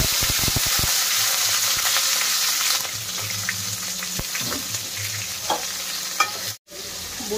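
Onion fries in hot oil in a kadai, a loud steady sizzle with scraping stir strokes and occasional clinks of a spoon against the pan, alone without talk.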